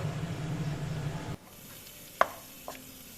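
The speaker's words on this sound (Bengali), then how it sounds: "এবার সব মশলাগুলো একসাথে আলুর সাথে কষিয়ে নেব।" Potatoes and mixed spices fry in a pan for Bengali-style stuffed pointed gourd. A steady, close sizzle runs for about a second and a half, then stops sharply, followed by a couple of light utensil knocks.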